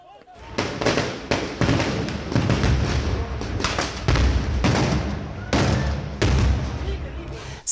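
Explosions ring out at a Belarus street protest as police move in on the crowd, a series of loud sharp bangs and blasts repeating irregularly over a constant roar of crowd noise and shouting.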